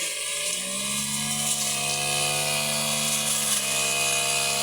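A grass cutter runs steadily while clearing grass from ground prepared for bitter gourd planting, a loud continuous high-pitched motor whine with a buzzing edge, close and unbroken.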